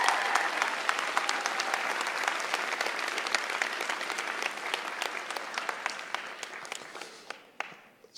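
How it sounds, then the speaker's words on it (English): Sustained applause from a large audience at a university commencement ceremony, a dense wash of many hands clapping that holds steady for several seconds and then tapers off toward the end. "let's give our parents and family members a round of applause"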